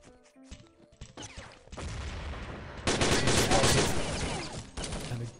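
Rapid gunfire from a long-range Colt rifle in a competitive team shooter match, with repeated shots building into a loud, dense burst of fire mixed with game effects and faint voices.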